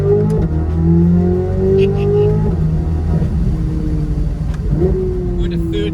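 A Corvette Z06 V8 with the roof down revs through rising gear pulls, a loud, close engine note climbing, dropping at shifts and climbing again, while someone talks over it.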